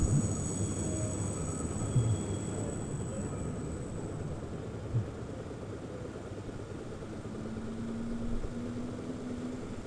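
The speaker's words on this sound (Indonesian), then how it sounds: "Ini kalau kalian dengarnya ada LRT lewat di atas nih." An elevated LRT train rumbles steadily overhead in Jakabaring, Palembang, heard from a moving motorcycle. The rumble is faint and continuous, with traffic noise and a few brief knocks in the background.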